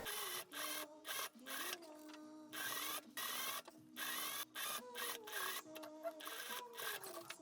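A sewing machine top stitches a skirt in a series of quick, rattling bursts of stitching separated by short pauses, close and clear, with no talking.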